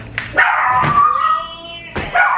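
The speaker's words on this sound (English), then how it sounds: "With these dogs." Dogs at a family house during a Thanksgiving visit give a few close, sharp barks and yips, with short gaps between bursts and a whiny tone between them.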